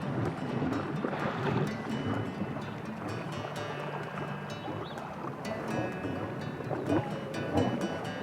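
Steady low engine drone of a boat motoring over calm water, with some wind noise on the microphone throughout.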